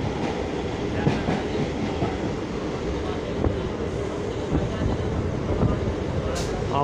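A Barrackpore–Sealdah local train runs steadily on a cloudy day, a constant loud rumble with faint clicks of the wheels, heard from inside near a window.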